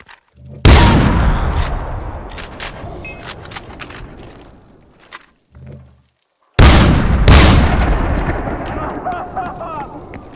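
Heavy gunfire rattles through the Far Cry 4 video game in two long, loud bursts of rapid shots and blasts, broken by a brief near-silent gap.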